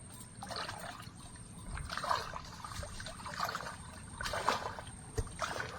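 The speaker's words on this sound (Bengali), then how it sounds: "দেখতে পাচ্ছেন এক হাঁটু জল পেরিয়ে তারপরে আমরা ওদিকে চলেছি" Legs wade through knee-deep water in a Sundarban mangrove forest, sloshing and splashing in uneven surges, fairly close but soft, with trickling drips between steps.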